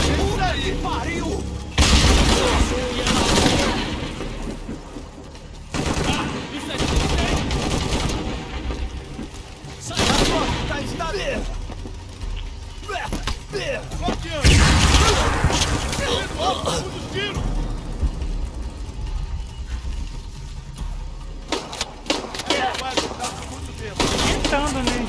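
Bursts of gunfire during a firefight in Shadow of the Tomb Raider, set in torrential rain: repeated loud volleys and rapid shots with booms, coming in clusters over the whole stretch, mixed with voices speaking and shouting.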